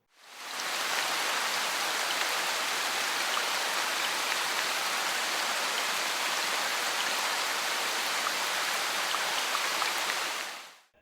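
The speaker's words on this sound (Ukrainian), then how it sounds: "А зараз я запрошую тебе послухати, як шумить дощик, яку він пісеньку співає." Steady, dense hiss of rain falling, even and continuous from start to end, with no voices.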